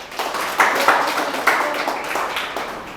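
A classroom group breaks into applause, a dense burst of clapping with a few sharper claps standing out, close and moderately loud, fading slightly toward the end.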